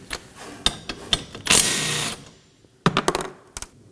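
A 14 mm wrench loosens and removes a nut on a 2015-2023 Nissan Maxima 3.5L V6, heard as a series of sharp metallic clicks and taps up close, with a brief burst of scraping in the middle and no talking.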